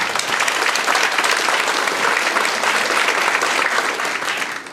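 An audience at an Oklahoma Academy forum in Stillwater claps loudly and continuously for several seconds, a dense, even wash of applause from a full room that tapers slightly at the end.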